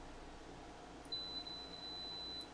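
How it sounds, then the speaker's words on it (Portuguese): A Tooltop ET32C multimeter set to continuity gives a clear, steady electronic tone of about one and a half seconds that starts abruptly and sits over quiet room hiss, with no voices. "tem um bip bem audível, funciona bem a continuidade"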